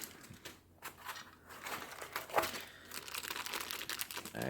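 Plastic bags being unwrapped from individually packed parts of a Ulanzi Vijim LS24 desk stand, giving a steady crinkling and rustling with a few sharper tearing crackles, close and moderately loud, with no talk.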